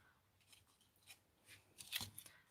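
Scissors cut small craft pieces in a series of quiet, crisp snips, several short cuts spaced irregularly, the loudest near the end, close but faint.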